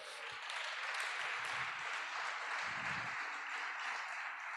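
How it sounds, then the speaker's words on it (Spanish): Church congregation clapping hands together in praise, a steady, even wash of many hands applauding throughout, moderately loud and continuous, with a few faint low thumps underneath. "Le damos palmas al Señor por eso."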